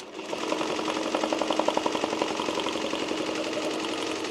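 A Tajima TMBP2 embroidery machine stitches a large satin design with 3D puff on a hat, giving a loud, continuous mechanical hum with a fast, even stitching pulse.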